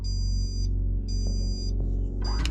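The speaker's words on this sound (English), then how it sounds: "the beeping noise these buttons make is very loud" Three evenly spaced electronic beeps from control panel buttons in an overnight train compartment, each sustained about half a second, sound over a steady low hum.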